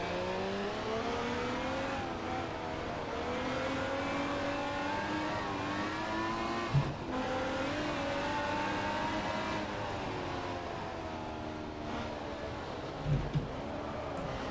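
Jaguar XJS race car engine in the racing video game GT Legends, a continuous loud drone that rises and falls in pitch as the car revs and slows, with brief bumps near the middle and end.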